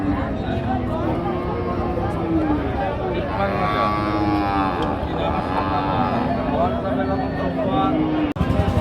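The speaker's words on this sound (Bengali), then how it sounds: "এই যে গরুটা দেখা দেখি চলতেছে আপনারা দেখতে পাচ্ছেন" A cow at the crowded Chaugachha cattle market in Bangladesh gives drawn-out lowing moos amid a constant din of voices and people talking nearby.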